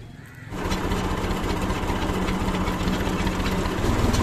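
A tractor engine, readied for a procession, starts up and settles into a steady, loud, low chugging idle with a rapid rhythmic knock, running close and continuous.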